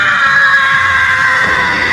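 A loud, sustained scream carries over a phone line, piercing and continuous for about two seconds.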